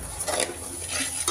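Lentils dry-frying in a pan while being stirred continuously, giving soft scraping and rustling strokes with faint sizzle, close and moderately loud.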